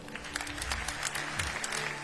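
A church congregation claps for its youth, a dense burst of many hands applauding together, fairly close and lively, with a faint murmur of the crowd underneath.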